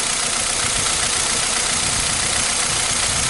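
A 2015 Hyundai Accent engine runs steadily with a misfire while running rich with a crank sensor fault, giving a loud, continuous, rough drone close by with no break.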